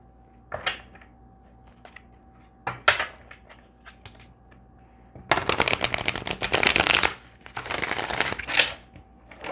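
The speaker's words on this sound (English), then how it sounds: "I'm gonna shuffle" Tarot cards riffle and snap in quick bursts, a few short flicks followed by two longer, dense shuffles close by.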